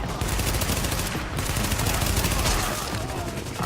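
Sustained heavy gunfire in The Division on Xbox One, enemy rounds hammering a piece of cover in Manhattan, a dense continuous barrage of rapid automatic shots, loud and close throughout.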